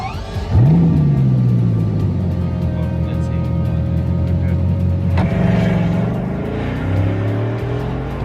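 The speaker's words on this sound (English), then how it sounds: "Should I start the engine?" A Bugatti Chiron's engine fires up with a sharp rise, then settles into a deep, steady idle before a second rev swells and falls back, loud and close.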